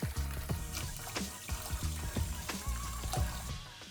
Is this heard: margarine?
yes